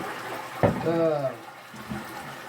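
Water rushing through a mud jug as it is flushed clean, a close gurgling surge with a burst at the start, then settling into a steady wash with faint voice fragments over it.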